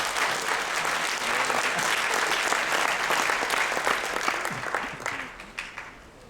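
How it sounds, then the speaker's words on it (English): An audience at a corporate brand event in a Seoul hotel ballroom claps loudly and continuously, a dense roar of applause that tapers off toward the end. "Let's give a big round of applause for Al Bala."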